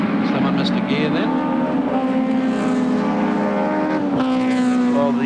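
Touring race cars, 1987 AMSCAR series cars racing at Amaroo Park, engines droning loudly and continuously with shifting pitch as they pass, under steady commentator talk.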